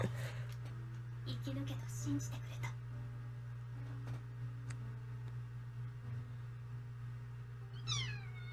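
A cat meows in an anime episode, soft and intermittent under a steady low hum, with another short cry near the end.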